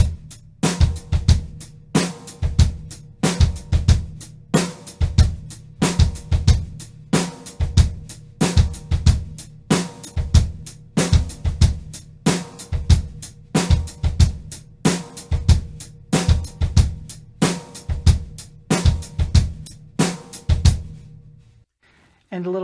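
A drum set plays a steady sixteenth-note groove, with the bass drum landing on the offbeats between strong snare and cymbal hits. The kit is loud, close and unaccompanied, then stops abruptly near the end.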